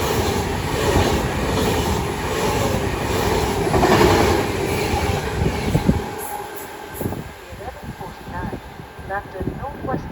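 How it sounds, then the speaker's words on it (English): An Avanti West Coast Class 390 electric passenger train rumbles loudly through Milton Keynes Central station for several seconds, then fades, leaving quieter station ambience with a few faint voices. "now will be Avanti West Coast service going from Glasgow Central to London Euston."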